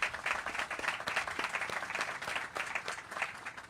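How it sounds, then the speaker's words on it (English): Crowd applause at a panel event on the economics of the NFL Draft, steady dense clapping from a room of people, moderately loud, with no talk over it. "Please give them a round of applause and thank them for making today possible."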